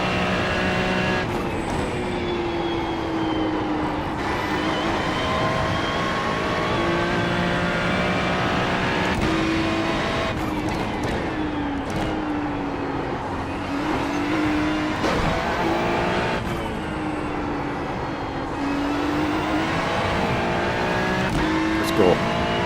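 A GT3 race car laps Sebring in the iRacing sim with a loud, continuous engine roar rising and falling through gear shifts and corners, while people talk over it.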